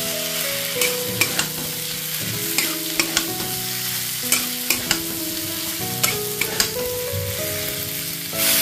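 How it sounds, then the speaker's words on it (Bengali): Fried cauliflower and potatoes sizzle steadily in a pan as a spoon stirs and sautés them, with sharp scraping clinks against the metal at irregular moments throughout. "দিয়ে খুব ভালোভাবে এটা মিশিয়ে নিতে হবে। আরো 2 মিনিটের মতো এটা ভালোভাবে কষিয়ে নেব।"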